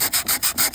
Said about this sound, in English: I cleaned it up a bit and I started sanding down